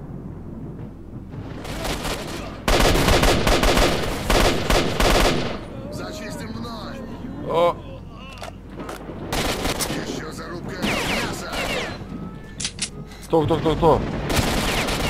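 Bursts of automatic and single-shot gunfire in the shooter game S.T.A.L.K.E.R. Shadow of Chernobyl, loud rattling volleys with gaps and booming hits, while someone speaks briefly over the shooting.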